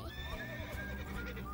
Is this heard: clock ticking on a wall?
no